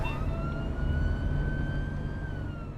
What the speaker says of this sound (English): the ambulance arrives at Birmingham's Queen Elizabeth Hospital